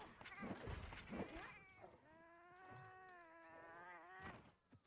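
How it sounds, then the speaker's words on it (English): Cat meowing in the video game Monster Hunter Rise, a drawn-out, wavering yowl lasting a couple of seconds, framed by brief bursts of game noise at the start and end. "Did you kill a cat?"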